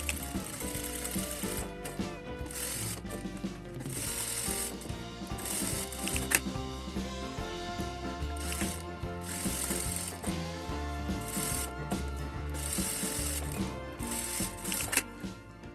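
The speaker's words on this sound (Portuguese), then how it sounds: "Eu vou passar uma costura reta aqui na parte de cima para pespontar" A sewing machine runs a straight topstitch along the top edge of a small wallet, giving a fast, steady mechanical clatter in close bursts with brief stops between them, and no talking.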